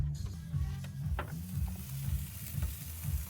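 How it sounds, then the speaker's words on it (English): A BBQ pork tenderloin sears in a hot pan, giving a moderate, steady sizzle with scattered pops and a few scraping, stirring sounds over a low background hum. "It's cooked to its internal temp and we started to sear it."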